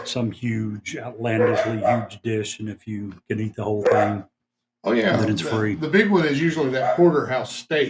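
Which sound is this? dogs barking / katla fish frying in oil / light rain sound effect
dogs barking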